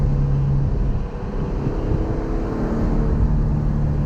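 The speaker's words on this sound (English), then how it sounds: "There's kind of like a rumbly burble when you let off there." Low, rumbling engine burble from a car exhaust on lift-off, steady and fairly loud throughout, with a deep throbbing drone.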